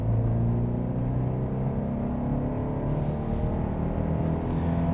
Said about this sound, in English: Let's put the car into sports and drive.